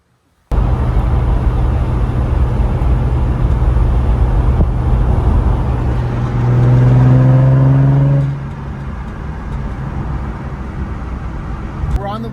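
An Infiniti G35 drift car with a VQ35DE engine and aftermarket exhaust drives along, its engine droning loudly and steadily from inside the cabin before rising briefly in a revving whine, then settling back to a lower hum.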